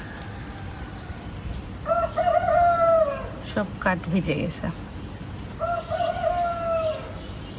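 A rooster crows twice nearby in an urban setting on a rainy morning, each long call clear and loud, with a person talking briefly between the crows.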